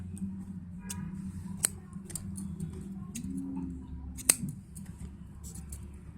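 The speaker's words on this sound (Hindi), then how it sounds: "सारे टुकड़े इस तरह नाप के आप काट लीजिए" Scissors snip through measured pieces of wool yarn, two sharp clear cuts spaced a few seconds apart over a quiet, low background hum, close and fairly faint.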